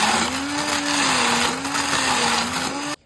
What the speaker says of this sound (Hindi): अब हम इस टाइप के एक हैंड मिक्सी लेंगे और बस पानी के साथ ही इसके ऊपर हम इसमें चंक्स करेंगे।